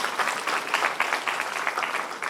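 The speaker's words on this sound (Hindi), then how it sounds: "जोरदार तालियां हमारे छात्रों के लिए" Sustained, dense applause from an audience for student performers of a college theatre club at St. Xavier's College of Management & Technology, Patna, steady and fairly loud throughout without a break.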